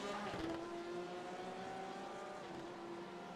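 Porsche 955 race car running steadily at a distance, a sustained engine drone with a strong held tone through the whole stretch, no talk.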